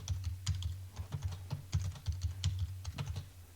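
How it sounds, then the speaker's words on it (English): Password typed on a computer keyboard, a quick, steady run of close key clicks with a soft low thud under each press, continuous for a few seconds with no talking. "So I'm going to type in that password for my NSX environment"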